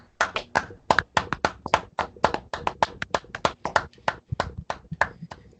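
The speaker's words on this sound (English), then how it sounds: "let's get a round of applause" A small group claps along with scattered hand taps, sharp uneven claps over about five seconds, close and fairly loud, with no talking.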